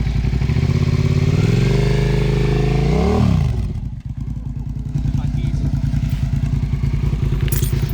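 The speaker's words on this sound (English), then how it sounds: "I want y'all to see what I am having to go through in order to get this daggone bike to run." A motorcycle with a bypassed clutch safety switch runs loud and close, its engine revving up and down before dropping to a steady, lumpy idle with a clattering beat, as someone talks over it.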